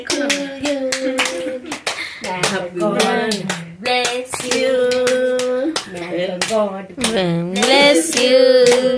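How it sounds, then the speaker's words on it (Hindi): A baby girl claps her hands at her first birthday celebration, with a series of sharp hand claps mixed in among voices that talk and sing nearby. "अपना बर्थडे में ताली मार रही है"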